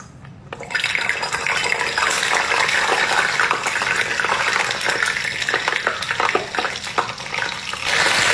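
Loud, continuous sizzling and bubbling of big green caterpillars deep frying in hot oil, steady throughout with no talking.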